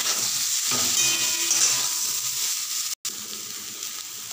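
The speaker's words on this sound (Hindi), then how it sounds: "आलू को अच्छे से भून ले रही हूँ" Potatoes with salt and turmeric sizzle and crackle in a hot pan, a steady close frying hiss with occasional stirring scrapes and one brief dropout.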